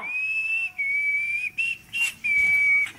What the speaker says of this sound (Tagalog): Sipol ako, ha?